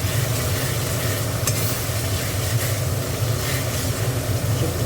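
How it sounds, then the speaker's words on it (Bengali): Green peas tossed into spiced masala in a wok fry with a loud, dense, continuous sizzle over a low rumble, joined by steady stirring. "কড়াইশুঁটিটা দিয়ে দিলাম"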